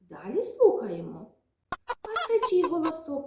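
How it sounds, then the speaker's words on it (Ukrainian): A hen clucks in a series of short, uneven calls that start abruptly after a pause. Before that, someone speaks briefly. "Вірно, це курочка кудахче."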